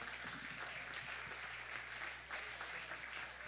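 A church congregation applauds during a sermon, a steady dense wash of clapping at moderate level that fills the whole stretch, with a low hum underneath.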